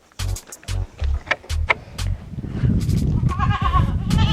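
Young weaner goats bleat on a goat farm, with several loud, close calls in quick succession that give way to a denser, overlapping chorus of bleats and shuffling near the end.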